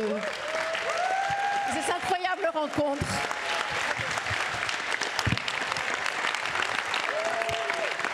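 A crowd at a talk on curbing a violent society breaks into sustained, loud applause that fills the room steadily, with speech running over it throughout.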